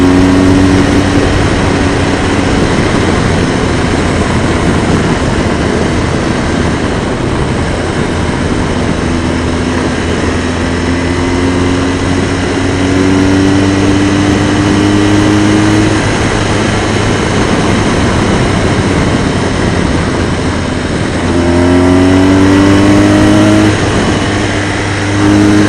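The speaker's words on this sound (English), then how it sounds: "This engine sounds good. It's not the best sounding engine," Light aircraft engine droning steadily in flight, loud and close throughout, with a constant low hum and occasional rising and falling propeller tones, no voices.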